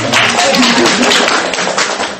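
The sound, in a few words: audience applause for Paula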